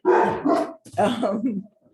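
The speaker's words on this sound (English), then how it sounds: "the mobile vet just turned up and the dogs are excited" Excited dogs bark in a couple of short, close bursts as a mobile vet arrives, mixed in with indoor talk and fading into quiet.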